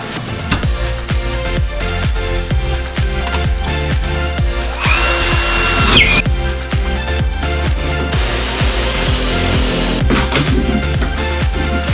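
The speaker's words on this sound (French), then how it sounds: "il va falloir que je fixe la planche ici avec des vis depuis l'extérieur" A power drill drives screws into a board while fixing a range hood inside an ACMAT VLRA truck, with a loud close whining motor in bursts over a steady rhythmic knocking background beat.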